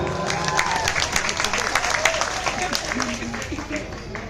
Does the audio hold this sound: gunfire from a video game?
no